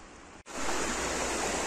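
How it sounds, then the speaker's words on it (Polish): A rushing mountain river, the Bystrzyca Dusznicka, pours between rocks with a steady, loud roar that starts after a brief cut and continues unbroken. "Jesteśmy nad rzeką Bystrzycą Dusznicką o rwącym prądzie"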